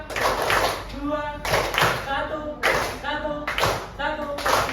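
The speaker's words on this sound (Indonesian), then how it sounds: "Oke, tepuk 1, tepuk 2, tepuk 3" Classroom counted clapping game, several rounds of brisk rhythmic claps in quick bursts from a group of pupils, mixed with a teacher's voice calling the counts.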